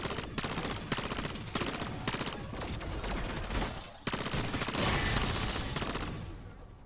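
Rapid automatic gunfire rattles in dense, continuous bursts with short pauses between strings of shots, loud and close, with no talking over it.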